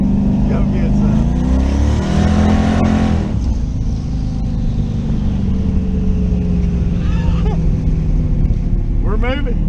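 A twin-turbo LS-swapped third-generation Camaro pulls away under load, its loud engine note rising through the gears with shifts, close and continuous, and voices talking over it.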